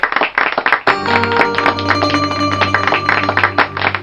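A TV show studio audience claps for a judge, a burst of close, ragged handclaps over a steady musical jingle.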